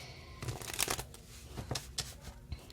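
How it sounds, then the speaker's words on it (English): Tarot cards being shuffled by hand during a reading, a run of crisp papery riffles and slaps in uneven bursts, close and fairly quiet, with no talking. "One more shuffle, they tell me."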